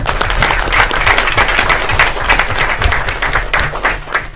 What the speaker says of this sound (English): So definitely give them a round of applause.